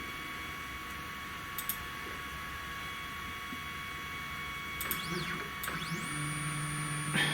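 A 3018 CNC router engraving a 3D carving gives off a steady, quiet whine with a faint high tone underneath, and rising and falling stepper-motor sweeps break in near the end.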